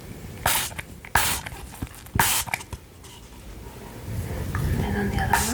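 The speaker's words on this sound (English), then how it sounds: "I'm gonna spray a little bit of cleaning solution." Several short hissing bursts of a spray bottle, close by, separated by pauses, with quiet handling noises and faint rustling around them.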